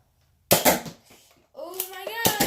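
A Nerf toy blaster fires after being loaded and cocked, giving a sharp close pop with a short snap, followed about a second later by a second burst of sound while someone speaks.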